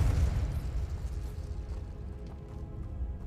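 Confringo spell explosion in Hogwarts Legacy, a deep booming burst at the start that rumbles and fades out across a few seconds with no talk.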